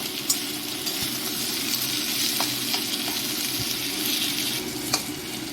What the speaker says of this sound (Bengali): পেঁয়াজ আর আলু ভালো করে দেখুন ভাজা হয়ে গেছে